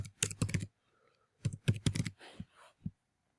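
Quick bursts of computer keyboard typing, close and crisp, come in two clusters separated by a short pause, with a few scattered single keystrokes trailing off into quiet.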